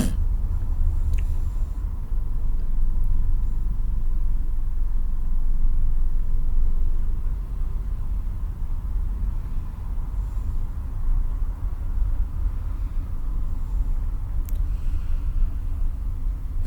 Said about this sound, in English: Just sit around in Bangkok traffic.